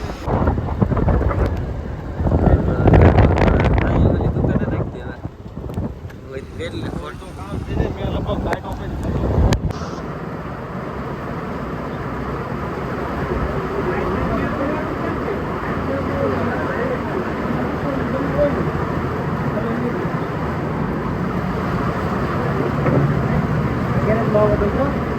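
Heavy rain pours down with thunder on a flooding roadside. A loud, gusty stretch under people talking comes first, then a steady, dense downpour hiss continues.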